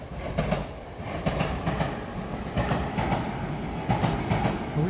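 Train rolling along tracks during an evening walk in Kawasaki, a loud rumbling pass with rhythmic clickety-clack of wheels over rail joints, close by and continuous for several seconds, no talk.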